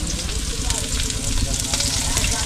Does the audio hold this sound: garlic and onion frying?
yes